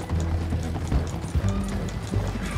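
A horse gallops in Red Dead Redemption 2, its hooves drumming in a fast, steady rhythm, loud and close, with a continuous rumbling wash of movement underneath.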